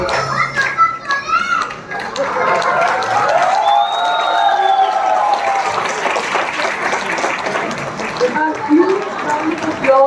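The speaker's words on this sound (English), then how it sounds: "A huge round of applause for class 1D." A school musical show audience applauds and cheers for a class of children, with steady clapping and excited children's voices mixed together, loud and close throughout.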